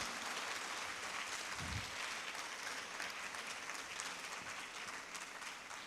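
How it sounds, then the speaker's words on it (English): Audience applause at a talk-show taping, a dense, sustained wash of many clapping hands filling the space at an even level for several seconds, with no one talking over it. "let that applause reflect your enthusiasm"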